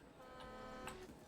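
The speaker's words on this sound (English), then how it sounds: "Just sitting honking at a Struthy." Car horn honking in the park-building video game Jurassic World Evolution 2, aimed at a Struthiomimus dinosaur: a steady sustained tone with a brief burst near the end, heard alone without talk.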